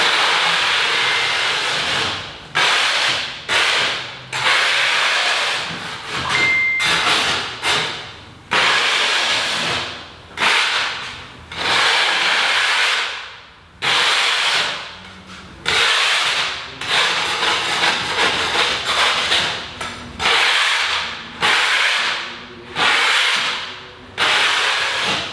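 Spatula scraping leftover bits of the previous day's work off a coated floor surface, loud rough scraping strokes repeated in a steady rhythm with short pauses between pushes.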